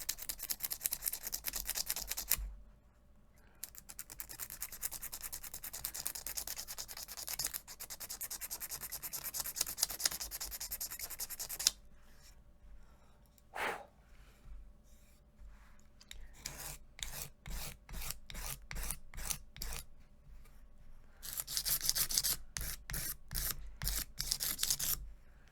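A razor blade scraping old gunk off a section of a banjolin, close rasping strokes in bursts, some long and continuous, others quick and rhythmic, separated by short pauses, with no talk.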